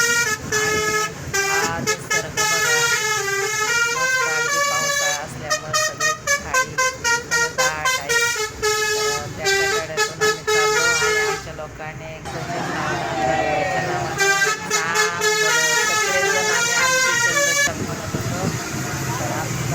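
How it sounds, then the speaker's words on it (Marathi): A melodic musical vehicle horn plays a repeating tune in loud bursts, pausing briefly, with road noise underneath. "गाडीवाले काका पण इतका छान हॉर्न वाजवतात ना एकदम मस्त आवाज"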